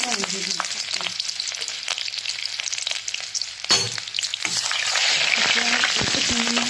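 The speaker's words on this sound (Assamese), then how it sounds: "পিঁয়াজখিনি ভাজি থাকিব লাগিব" Sliced onions fry in oil in a pan already seasoned with bay leaves, whole spices and a green chilli, giving a steady, close sizzle with a few stirring clatters, growing louder and denser toward the end.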